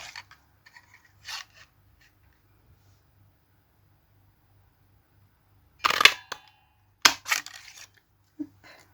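Scissors snipping through card, a few quick crisp cuts in two close bursts separated by quiet, with a faint click near the start.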